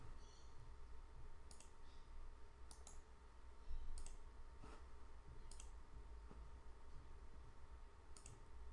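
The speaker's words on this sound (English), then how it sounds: "when you click on the function button in the context assistant" Computer mouse clicking on a function button in software, several sharp, isolated clicks spaced a second or two apart over a steady low background hum, faint and close, with no voices.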